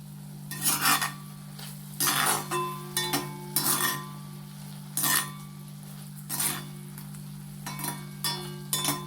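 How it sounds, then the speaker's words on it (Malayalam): Prawns being stirred in a pan with the lid off, giving repeated scraping clinks of a utensil against metal at an uneven rhythm over a steady low hum, close and moderately loud with no talking. "നമുക്കൊന്ന് ലിഡ് മാറ്റിയിട്ട് ഇതൊന്ന് ഇളക്കിക്കൊടുക്കും."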